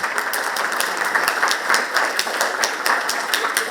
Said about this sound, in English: I just want to have a round of applause for all of our panelists